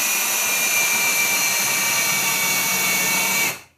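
A power drill bores a hole at a 45-degree angle into quarter round trim, running as a loud, steady whir for several seconds before cutting off abruptly at the end.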